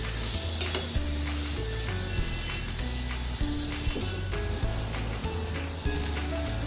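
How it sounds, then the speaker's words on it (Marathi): Finely chopped tomatoes sizzle and fry in a pan for a prawn biryani base, with steady loud crackling and repeated scraping strokes of stirring throughout, no talking. "हे देखील आपण टोमॅटो परतून घेणार आहोत"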